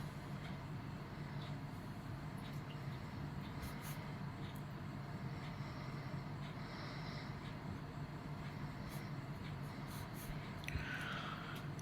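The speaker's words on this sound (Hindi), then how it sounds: "और पॉइंटर से हम लिखेंगे" A pointer pen writes Urdu calligraphy on paper, its faint scratchy strokes barely rising above a steady low background hiss for the whole stretch.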